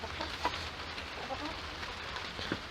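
Chickens clucking softly inside a coop at night, scattered faint clucks over a steady background hiss resembling rain.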